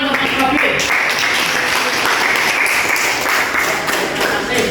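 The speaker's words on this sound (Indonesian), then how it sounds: "beri tepuk tangan untuk Mas Robi" Classroom group applauding a presenter named Robi, with continuous clapping running throughout and a voice talking over it.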